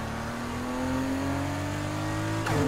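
Race car in Need for Speed Heat, a rare engine in a starter car, accelerating with a steadily rising engine note held loud and close, then a brief shift near the end as the pitch drops and climbs again.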